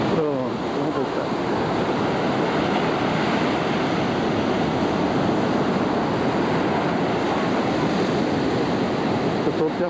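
Steady, loud rush of sea waves washing up on a sandy beach at Matinhos and Caiobá, continuous surf roar with wind buffeting the microphone and no pauses.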